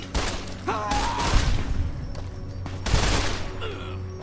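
Bursts of gunfire in the video game Fallout: New Vegas, set in the Mojave, crack out in several volleys over a steady background hum and game noise.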